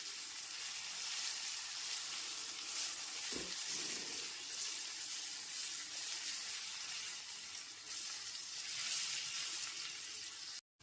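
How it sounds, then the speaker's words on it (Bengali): Ginger-garlic paste being sautéed with onions in a pan, a steady close sizzle with one brief knock of a utensil partway through. "আদা রসুন বাটাটা পেঁয়াজের সাথে খুব ভালো মতো কষিয়ে নিয়েছি"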